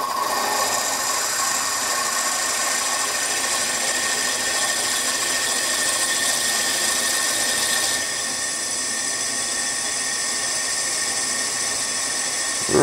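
A 6mm drill bores into metal on a lathe while building a Stuart Models S50 engine, a steady high grinding whine that runs continuously, softening slightly partway through before a final clunk.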